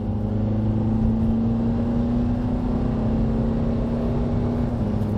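Honda car with an automatic transmission, warmed up after a shift solenoid repair, pulling smoothly through third gear: a steady, loud engine hum with a faint, barely noticeable shift and no voices.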